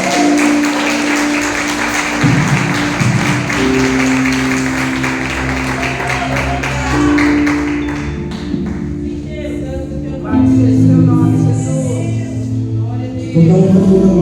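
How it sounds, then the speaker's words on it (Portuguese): A church congregation at a Wednesday worship service applauding, a dense sustained wash of clapping that swells in bursts while music plays and voices carry over the top. "Você pode aplaudir o Senhor?"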